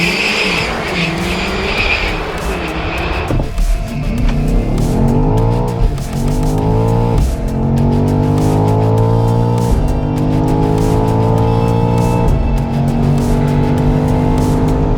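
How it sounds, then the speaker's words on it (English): A 700-horsepower BMW M3 CS Touring accelerates hard down a drag strip in Abu Dhabi, with a loud engine climbing through several rising gear sweeps and brief shift breaks, heard close from inside the car with no talking. "So let's go jump in and drive it down this drag strip."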